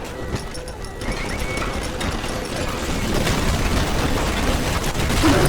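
Armor-piercing rounds fire in Bioshock 2 Remastered during a fight with the Big Sister and security bots, a dense continuous rattle of gunfire and mechanical noise that grows louder toward the end.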